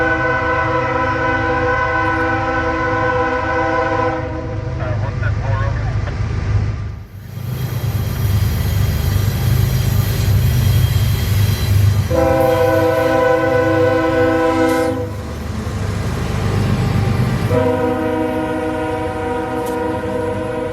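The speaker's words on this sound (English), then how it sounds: "tonight he would have a GEVO leader and an SD70 Mace trailing a long string of auto racks" Freight train M587 with a GEVO leading and an SD70 Mace trailing a long string of auto racks, sounding its horn loudly in several long blasts over the heavy roar of the passing locomotives.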